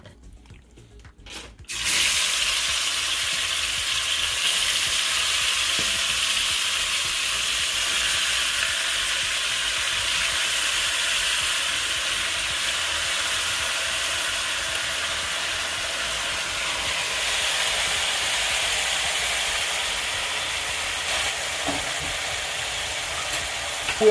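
Beef stew ingredients sizzle steadily in a pot after a short quiet start, a close, even hiss that holds for the rest of the time with no talking.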